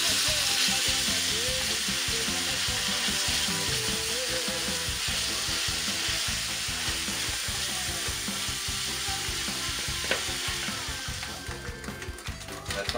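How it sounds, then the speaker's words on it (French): Salt cod frying in hot oil for a Réunion rougail morue, a steady dense sizzle and crackle that stays loud and continuous throughout, with occasional stirring, no voices. "Et bien sûr, on va le faire frire."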